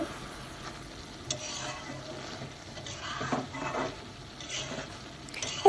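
Taro stolon (kochur loti) curry frying down in a pan until the liquid is gone and the oil separates, giving a low steady sizzle with a few soft stirring scrapes and no voice.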